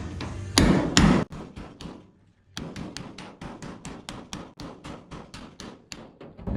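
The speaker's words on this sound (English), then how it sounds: "we'll go back with that chisel and just chop it off" Hammer driving a chisel through rusty sheet metal on an old Ford Bronco truck, a fast series of sharp metallic strikes close by, pausing briefly before a steady rhythmic run of blows.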